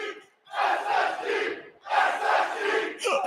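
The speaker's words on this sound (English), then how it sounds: "The crowd has absolutely lost it here in Stockholm." A packed arena crowd at an esports major final in Stockholm roars in two long loud surges with a short dip between, a massed screaming wall of sound.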